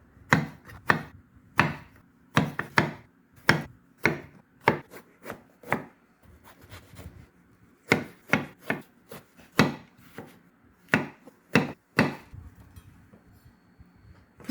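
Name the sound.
knife cutting eggplant into 7 cm pieces on a board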